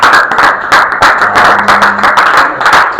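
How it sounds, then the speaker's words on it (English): A classroom audience claps for a grade 10 student presentation, a close, loud, steady patter of hand claps throughout. "Give them a big round of applause."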